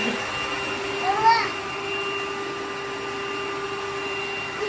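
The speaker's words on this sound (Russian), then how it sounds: "Хочет убирать пылесосика." A household vacuum cleaner runs with a steady, even whine and hum throughout, while a voice briefly calls out over it.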